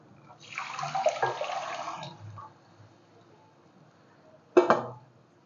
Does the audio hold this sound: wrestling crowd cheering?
no